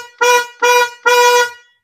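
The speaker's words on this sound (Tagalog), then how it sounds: "Parinig ko sa inyo yung tunog ng busina ko mga padi." Old worn-out car horn sounds three short honks in quick succession, each a loud, buzzy, raspy blast with harsh overtones, alone with nothing else heard.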